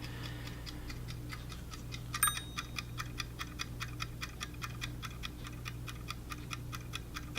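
A clock-style homework timer ticks steadily and evenly at close range, one crisp tick roughly every quarter second, with a slightly louder click near the start over a low background hum.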